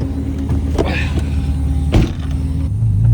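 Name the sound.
loud fuel pump of V12 twin turbo Toyota Supra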